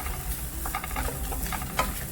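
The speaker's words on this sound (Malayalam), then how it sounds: "ഒരു 3 മിനിറ്റ് ഈ തേങ്ങ ഒന്നിട്ടിട്ട് ചൂടാക്കണം." Grated coconut and curry leaves heating in a pan for a Kerala chammanthi, a soft steady sizzle with light scraping and stirring taps, close and alone.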